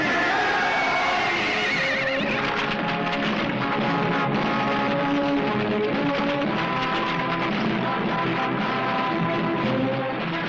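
Horses neigh and whinny in a dense, busy action scene from a Hindi period film. Faint hoof clip-clops mix in, and the whole scene stays continuous and loud for about ten seconds.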